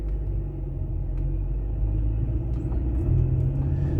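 Steady road traffic rumbles around a car on Francis Street beside Calderdale College in Halifax, a continuous low drone of engines and tyres that holds at a fairly even level without talk.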